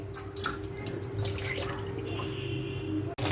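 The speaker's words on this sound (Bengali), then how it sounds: "এবার একটু ঠান্ডা জলে এটাকে ধুয়ে নেব ম্যাগিগুলোকে।" Cold water splashes and trickles as boiled Maggi noodles are rinsed, a close, steady running-water patter with small drips, ending in a brief clatter.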